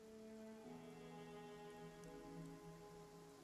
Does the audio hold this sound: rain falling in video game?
yes